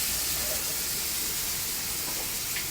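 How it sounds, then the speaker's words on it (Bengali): Raw mango pieces frying in a pan with turmeric and green chilli for dal, a steady close hiss and sizzle of oil with faint crackles and no break. "আমগুলোকেও ভেজে নেবো, একটু নুন দেবো।"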